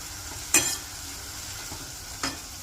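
Green onion and green garlic sautéing in an asafoetida tempering, with a steady soft sizzle and two sharp spoon clinks against the pan.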